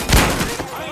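A Mafia III shootout gives a quick burst of close gunfire, one sharp loud shot followed by a couple of rapid fainter reports within a second.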